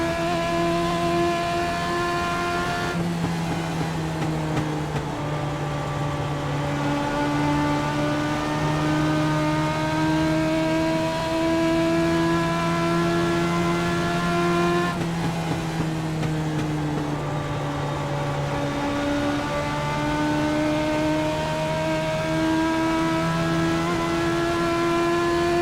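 A Legends race car engine held at high revs through a qualifying lap at USA International Speedway, loud and close, with a sustained drone that dips and climbs in pitch through the corners.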